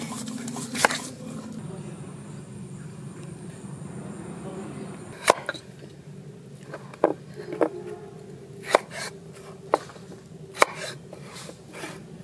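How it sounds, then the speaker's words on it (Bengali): A knife chops a papaya on a board in an outdoor village kitchen, giving several sharp, separate cuts at an uneven pace over a steady low background. "পেঁপে কেটে নেব।"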